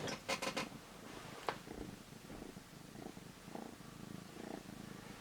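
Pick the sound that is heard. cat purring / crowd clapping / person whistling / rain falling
cat purring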